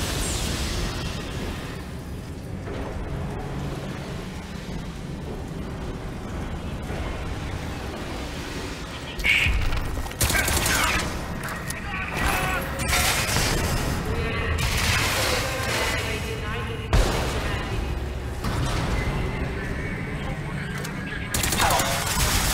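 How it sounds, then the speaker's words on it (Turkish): Weapon fire from enemy electric guns in Crysis 3, sustained bursts of crackling shots and impacts under continuous game noise, with a voice talking throughout. "Elektrikli silahla vuruyorlar seni, kıyafetin devre dışı kalsın diye."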